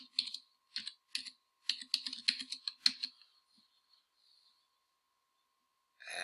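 Quick bursts of typing on a computer keyboard, clustered keystrokes close up and fairly quiet, tapering off into near silence before a faint noise at the end.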